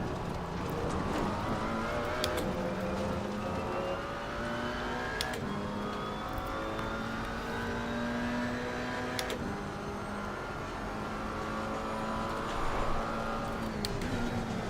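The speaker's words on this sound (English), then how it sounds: "The Mercedes sounds dirty, damn." A Mercedes race car in Assetto Corsa Competizione holds a steady, rough engine drone, rising and falling through gear changes with short shift blips, alone and without talk.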